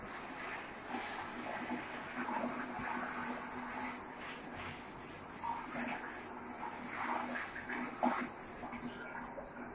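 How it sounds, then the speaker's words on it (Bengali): Water rinsing an air conditioner filter during home cleaning, a faint, steady hiss of flowing water that continues throughout. "এরপর আরেকবার ফিনিশিং দিচ্ছি পানি দিয়ে।"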